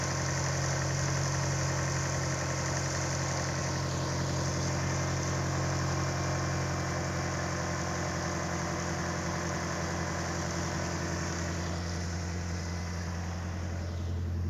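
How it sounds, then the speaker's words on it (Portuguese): An Opel Kadett GS engine running on ethanol through a Solex C40 ADDHE carburetor idles steadily and close, a constant low droning hum with a faint vibration and no pauses. "Eu vou baixar agora um pouco a rotação aqui."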